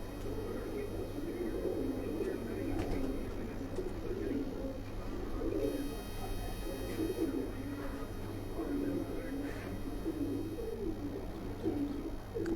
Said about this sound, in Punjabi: ਇਹ ਵੱਡਾ ਕਬੂਤਰ ਹੈ